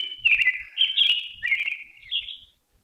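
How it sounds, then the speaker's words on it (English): A bird clock sounds a recorded birdsong chime, a run of bright chirping tweets in quick bursts, close and clear, fading out at the end with no talk over it. "Do you hear my bird clock?"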